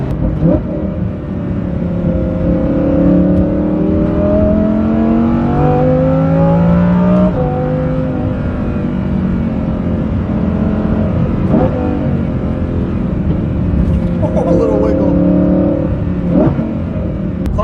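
A Lamborghini Huracan Performante with a Kline Innovation valvetronic exhaust set to race mode cruises at highway speed, its engine droning loud and steady with gliding pitch shifts as revs rise and fall, no voices over it.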